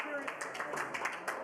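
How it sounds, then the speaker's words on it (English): Faint, scattered clapping from an audience applauding the Prime Minister, a thin patter of hands lasting a moment. "A round of applause for the Prime Minister"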